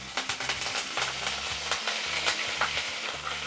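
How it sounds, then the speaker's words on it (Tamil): Ginger-garlic paste, slit green chillies and curry leaves fry in hot oil with a dense, close sizzle, crackling continuously while a utensil stirs with regular scraping strokes. "நாம் சேர்த்த இஞ்சி பூண்டு கருவேப்பிலை மிளகாய் நல்லா எண்ணெயில் பொரிஞ்சிடுச்சுங்க."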